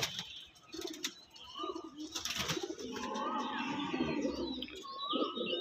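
Pigeons coo close by in a home loft, a series of soft throaty calls with some faint chirps and a brief flutter of wings in between.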